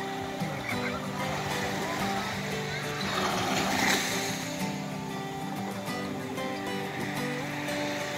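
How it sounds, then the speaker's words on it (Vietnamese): Sea waves wash ashore at Quy Nhon beach in Binh Dinh at dawn, a steady, continuous surf roll with a brief swell in the middle, mixed with faint tonal background sound. "Sóng biển dập dìu luôn á."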